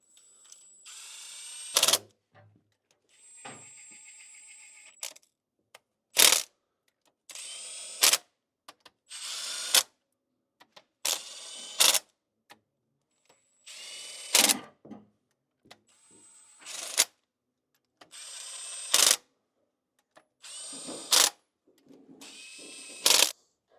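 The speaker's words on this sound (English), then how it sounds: "And now the tightening procedure, which is a very important aspect on securing the bolts on." Ratchet work on the cylinder head bolts of a Ford Transit Custom during a head gasket job: about a dozen short, close bursts of ratcheting clicks, each separated by a brief silence.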